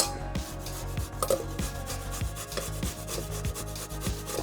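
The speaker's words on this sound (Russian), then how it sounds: "Да, и нам еще понадобятся яйца. Я их уже отварила. Берем терку." Boiled eggs are grated by hand on a kitchen grater, giving steady rhythmic rasping and rubbing strokes, close and fairly loud, with faint kitchen clatter and no talk.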